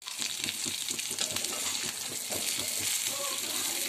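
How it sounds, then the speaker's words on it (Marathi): Stuffed brinjals frying in oil for Gujarati undhiyu, a steady loud dense sizzle throughout with faint stirring and clinking. "आता वांगे आपण फ्राय करून घेऊया."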